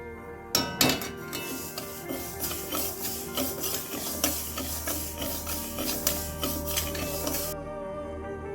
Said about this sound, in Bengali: এই ডালটা একটু ভেজে নেব।